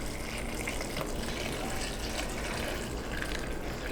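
Broth pours steadily into a bowl of food over lemon, giving a faint continuous liquid splashing and trickling that runs the whole time with no talk.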